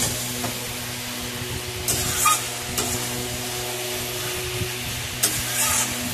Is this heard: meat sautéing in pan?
yes